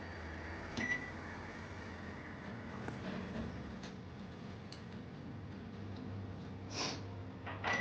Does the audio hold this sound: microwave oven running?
yes